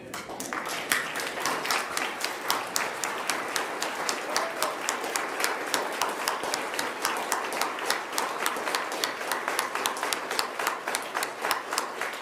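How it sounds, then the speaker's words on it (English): An audience at a mayor's New Year's levee applauds the Order of Collingwood award recipients, a sustained, even round of many hands clapping steadily for about twelve seconds with little talk. "give them one big more round of applause"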